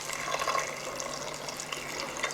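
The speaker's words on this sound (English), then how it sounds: "Just add a bit more water." Water poured into a pan of Mumbai pav bhaji, a short, soft, close splash and trickle with light bubbling, no voices.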